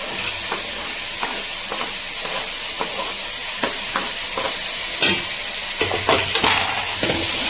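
Chopped tomatoes sautéing with ginger-garlic paste in a pan for a potato, cauliflower and brinjal stir-fry, a steady close sizzle broken by repeated scraping stirs of the spatula throughout.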